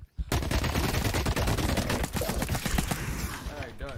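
Rapid gunfire from the video game The Cycle: Frontier, dense automatic bursts running nearly continuously and loud for the whole stretch, with a voice talking faintly underneath.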